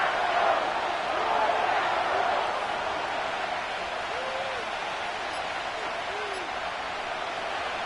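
A packed stadium crowd roars steadily at an NFL game between the Saints and Packers on a December day, with a broad, constant wash of noise and a commentator talking over it.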